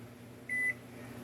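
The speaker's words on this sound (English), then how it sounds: "we are going to set the timer, kitchen timer, to 4 minutes" A kitchen timer being set in a home kitchen lets out a single short, faint electronic beep, quieter than the steady background hum.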